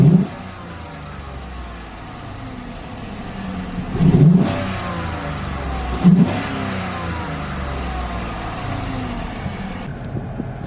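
A 2016 Chevy Silverado pickup fitted with a cold air intake revs with its hood up, two sharp throttle blips rising over a steady low idle, loud and close, with no talk.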